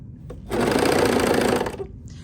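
A serger runs at speed over a thick seam in a single loud, even mechanical whir of about a second and a half, with faint handling noises around it.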